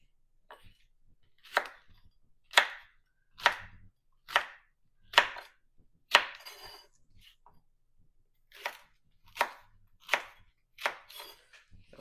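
Callaloo and okra being chopped with a large knife on a board, about ten crisp, evenly spaced chops in two bursts with a short pause between, close and clear with no talking.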